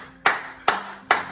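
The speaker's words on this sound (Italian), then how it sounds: "Un applauso, Dada." Three sharp, evenly spaced hand claps ring out close by in an Italian hotel room, each a crisp broadband burst with a short decay and no talking.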